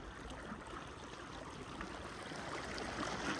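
Floodwater rushes through a village with a steady, broad roar that stays dense and constant throughout, without talk.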